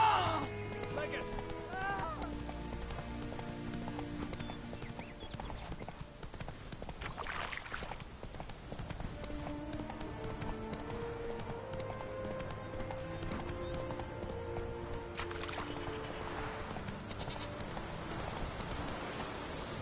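Roach, a horse in The Witcher 3, gallops with fast rhythmic clip-clop hoofbeats and a brief whinny, close and steady under game music and someone talking.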